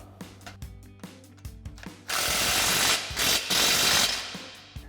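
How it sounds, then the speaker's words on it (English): A ratchet with a 15mm socket tightens an exhaust clamp on a 2022-2024 Toyota Tundra Magnaflow Street Series system, opening with a string of quick, close clicks and then switching to a louder, steady grinding rasp. "now we can tighten down our clamp with our 15mm socket"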